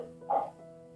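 A dog barks once, briefly and somewhat muffled, in the background of an indoor room with a low steady hum.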